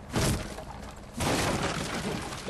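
Breach explosion in the video game Rainbow Six Siege, two loud bursts of shattering debris in quick succession, the second followed by sustained crumbling noise.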